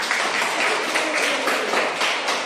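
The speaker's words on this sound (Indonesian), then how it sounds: "Woi, tepuk tangan buat Deden" Children in a Christian classroom clap together in a brief, steady burst of applause, close and lively, with no talk over it.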